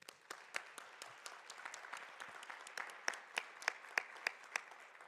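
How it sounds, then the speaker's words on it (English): Thin, scattered applause for a speaker at a general session of an education convention, with distinct individual claps sounding faint and somewhat distant, growing slightly more pronounced toward the end, with no talking. "please give her a round of applause."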